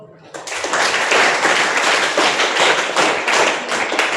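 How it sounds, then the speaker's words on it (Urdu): Dense applause for children at a middle school literary program fills the room, loud and sustained throughout after a brief quieter start. "ان بچوں کے لیے تالی بجاؤ"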